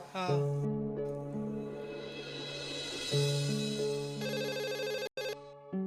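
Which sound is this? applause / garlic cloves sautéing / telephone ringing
telephone ringing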